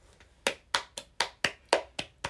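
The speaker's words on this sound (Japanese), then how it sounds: "拍手。" Eight sharp hand claps ring out at an even pace, each one crisp and close with a short decay, against a quiet room with no talking.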